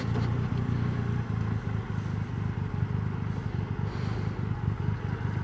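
A motorcycle engine idles and burbles close by, a steady low throbbing with slight revving swells over several seconds, no voices.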